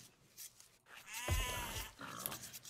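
A sheep bleats once in an Age of Empires match, a wavering nasal cry in the middle of the clip, heard close and moderately loud over light game-effect background noise.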